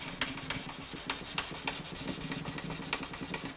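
Fine 800 grit sandpaper rubs back and forth over an acoustic guitar bridge on a Harmony H162, a quiet, close, rhythmic scratching with quick regular strokes.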